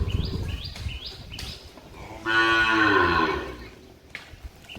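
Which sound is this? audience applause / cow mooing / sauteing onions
cow mooing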